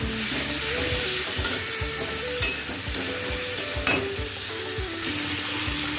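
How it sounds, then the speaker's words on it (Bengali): Masala paste with tomato sizzling and frying in a pan while a spoon stirs steadily, with repeated scraping strokes and occasional metallic clinks over the constant hiss. "মশলা পেস্টটা দিয়ে দিচ্ছি এবার ভালোভাবে কষে নেব"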